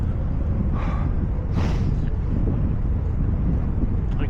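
Cold wind on a ride home buffets the microphone in a steady, loud, rumbling rush that never lets up.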